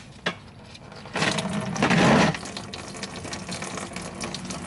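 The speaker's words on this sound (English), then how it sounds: "And out comes coolant." Coolant pours from an opened drain petcock on a car radiator, a close splashing and trickling stream that swells for about a second before settling into a quieter steady flow.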